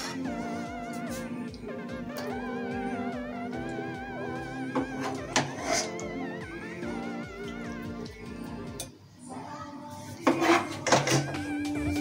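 Chicken tikka curry being dished out, with scattered clinks and clatters of pots and utensils over steady background music.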